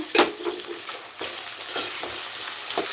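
Sliced onions and green chilies frying in hot oil, a loud, close, continuous sizzle broken by a few sharper crackles and stirring scrapes.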